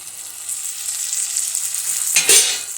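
Chopped green chillies go into frying dal: a steady, bright sizzle runs throughout, then a sudden louder hiss bursts up near the end as they hit the hot pan.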